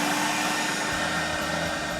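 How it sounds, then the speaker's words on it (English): Vacuum motors on a Mytee Lite 2 carpet extractor run with a steady, loud broadband whoosh and hum that holds evenly throughout, a low rumble settling in after the first second. "Now let's go ahead and turn our vacuum motors on."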